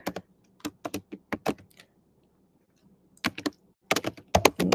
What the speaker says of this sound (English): I'm typing it in right now in the chat.